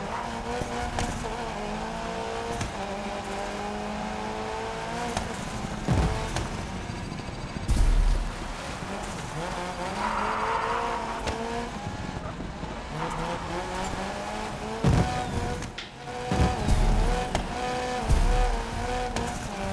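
Race car in a gravel rally video game, its engine droning steadily with rising and falling pitch through shifts, broken by several sharp skids and bumps, close and continuous with no one talking.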